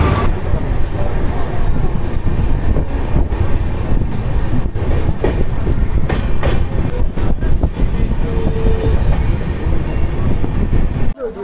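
Kulik Express train running on rails on the route from Malda toward Howrah, a steady loud rumble with rhythmic clatter of wheels over rail joints throughout, close up from inside the moving coach.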